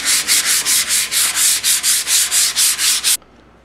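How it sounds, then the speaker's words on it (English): Steady back-and-forth sanding of a motorcycle gas tank with medium to fine grit sandpaper, about a dozen even, loud rasping strokes in a regular rhythm that stop abruptly near the end. "I want to get medium to fine grit sandpaper and just sand the whole surface to prepare it for paint"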